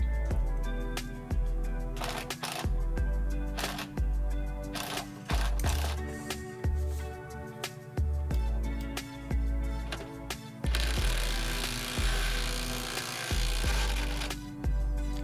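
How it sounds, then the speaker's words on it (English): An impact wrench drives lag bolts into a stair stringer, firing in short, loud, rattling bursts separated by brief pauses, repeating about a dozen times in a steady rhythm. "We have marked and pre-drilled a hole to mount our first stringer lag bolt using an impact wrench."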